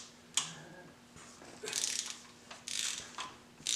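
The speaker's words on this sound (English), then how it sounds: "I guess I need a smaller torque wrench." A torque wrench ratchets on the cylinder head bolts of a 2000 Mustang, giving several short clicking bursts close up with quiet gaps between them.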